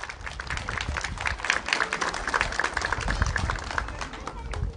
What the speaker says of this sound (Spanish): Brindémosle un fuerte aplauso a Chanet Guerrero Luzuriaga.